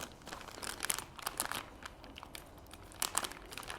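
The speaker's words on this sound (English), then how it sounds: "now I need to cut this open and get me a peg out of there" Scissors cut open plastic packaging holding a drill depth-gauge peg, giving close, crinkly snips and crackling rustles in uneven bursts, fairly quiet overall.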